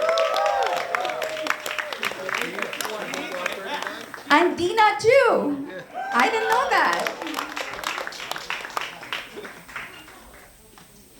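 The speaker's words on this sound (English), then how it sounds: "He needs a big round of applause." Picnic crowd at a candidate picnic and forum applauds Bob, steady clapping running under a speaker's voice and fading toward the end.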